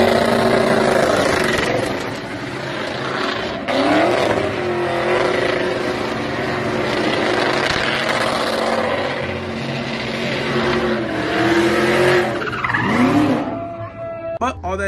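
A truck does a burnout, its engine roaring steadily and tires squealing and skidding for a long stretch, loud and close, with a rising whine near the end.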